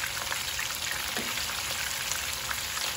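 Fish fries in hot oil, a steady dense crackling sizzle that holds evenly throughout with no talking.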